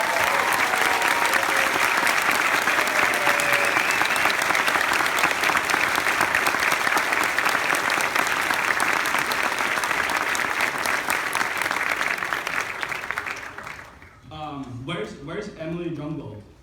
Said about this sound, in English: So please, give them an applause like you have never given an applause to anyone before.